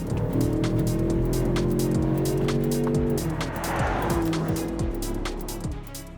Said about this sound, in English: it's a kind of V8 that you can hear as you're driving and cruising along.